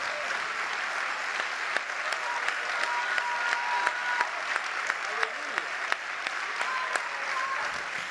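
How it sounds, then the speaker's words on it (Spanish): A church congregation applauds steadily at a Sunday service, a dense wash of clapping with scattered sharper claps and faint voices mixed in, held at an even level throughout. "Yo creo que para darle un aplauso al Señor no necesitamos motivos."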